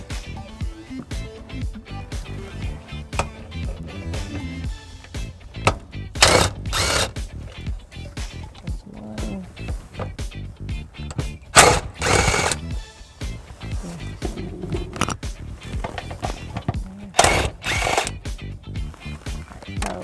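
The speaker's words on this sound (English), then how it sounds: "we are going to be removing the 3 10mm bolts that are going to be on this paneling" A power tool removes three 10mm bolts from an interior panel on a 2016 Ford Focus, with repeated short whirring bursts separated by quieter handling noises, all close by and without speech.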